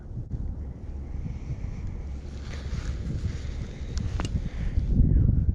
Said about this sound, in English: I think we only have 8-mile-per-hour winds